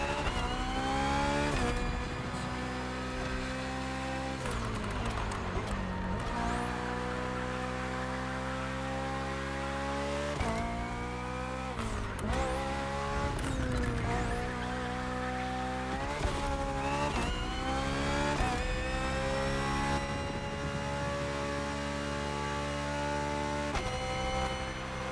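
Hybrid V8 BMW race car in The Crew Motorfest, its engine revving hard and climbing through gears with repeated shifts, a continuous loud racing drone with brief tire squeals.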